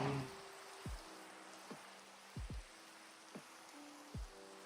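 Rain falls in the video game Minecraft as a steady, soft hiss throughout, with quiet tonal game sounds and sliding notes over it.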